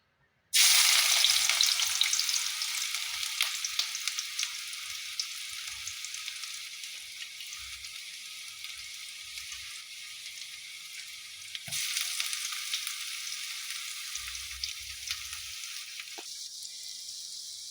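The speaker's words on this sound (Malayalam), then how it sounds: "ഇപ്പോൾ എണ്ണ നല്ലതായി ചൂടായി വന്നിട്ടുണ്ട്. നമുക്കതിലേക്ക് ആദ്യം ഇഞ്ചി വെളുത്തുള്ളി ചെറുതായി അരിഞ്ഞത് ഇട്ട് കൊടുക്കാം" Finely chopped ginger and garlic drop into hot oil for a simple chicken curry and burst into a loud, steady sizzle. The sizzle swells again partway through as the pan is stirred.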